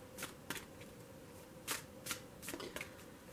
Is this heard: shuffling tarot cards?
yes